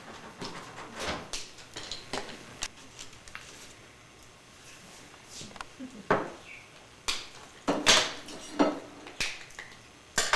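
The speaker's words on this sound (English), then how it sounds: "It's more fun to break up the pieces with your hand anyway." Chocolate being snapped into small pieces by hand, a series of sharp cracks and clicks scattered irregularly at close range, with quiet gaps between and a denser cluster of snaps toward the end.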